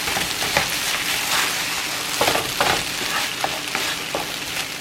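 Food doused with hot sauce sizzles as it is stirred around a pan, a dense crackling hiss with repeated scraping strokes, close and steady with no speech.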